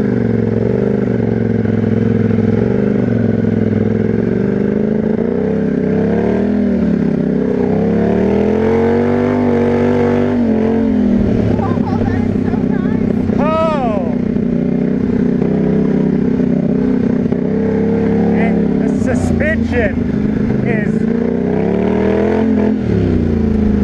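Polaris Scrambler ATV being ridden on trails at an off-road park: a loud, close engine droning continuously, rising and falling with throttle changes and revs, with clattering over rough ground.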